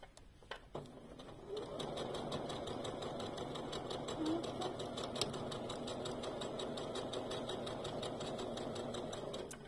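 A sewing machine stitching a reversible bag runs in a steady, fast mechanical whir after a brief start, continuing evenly and close up with faint clicks.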